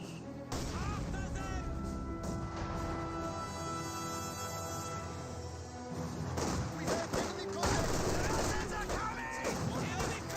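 Machine gun fire and battle noise from Company of Heroes 2, including an MG42, run continuously beneath a steady casting voice, with dense overlapping shots and impacts.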